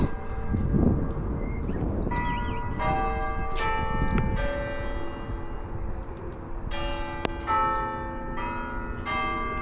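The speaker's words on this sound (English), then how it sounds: "It's ringing the bell." Church bells ring out in overlapping peals, several strikes sounding in succession and lingering, with birds chirping faintly in the background.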